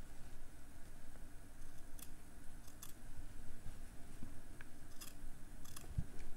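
Scissors snip fabric close to a bra seam during sewing, producing a few faint, sharp cuts spaced irregularly over a quiet room background.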